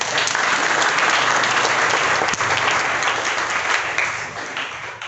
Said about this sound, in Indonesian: Masih bisa ada tepuk tangan untuk kita semua.